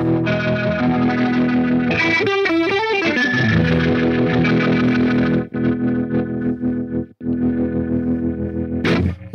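Overdriven electric guitar through a HeadRush pedalboard with delay and overdrive plays sustained chords and a swelling, warbling passage; a noise gate chops the volume abruptly near the middle and again at one point before the tail.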